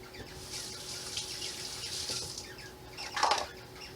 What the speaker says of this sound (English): I'm going to rinse my fingers.